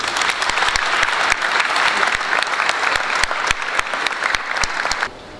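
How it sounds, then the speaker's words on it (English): Graduation ceremony audience in Manchester applauding graduates: dense, steady clapping with sharp individual claps standing out, loud and continuous before cutting off abruptly near the end. "So let's clap and celebrate the success of our graduates today"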